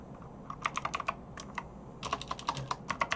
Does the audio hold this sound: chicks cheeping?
no